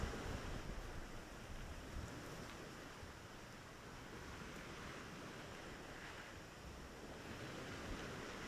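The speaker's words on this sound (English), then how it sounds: "You can hear the waves of Lake Victoria." Lake Victoria waves washing onto a small flooded beach, a steady low surf wash mixed with wind rumble on the microphone, continuous and fairly faint with no talking.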